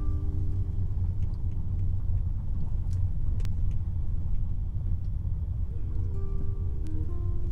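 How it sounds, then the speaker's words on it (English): A car rolls slowly over cobblestones through the pedestrian zone of a Danish old town, giving a steady low rumble of tyres and engine with light rattling, without pauses. "Driving on cobblestones here, so it's a bit wobbly"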